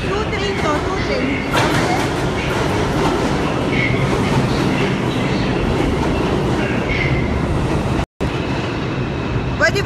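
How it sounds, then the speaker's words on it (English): A New York subway train arriving at a station rumbles and clatters steadily on the tracks, loud and close, with voices talking over the noise and a brief dropout near the end. "Oh, galing oh, may train na dumadating."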